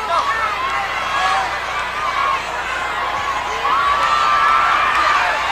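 A huge stadium crowd at a pro wrestling match in Texas Stadium on a warm afternoon roars and cheers steadily throughout, a dense wash of whoops and shouts that swells near the end.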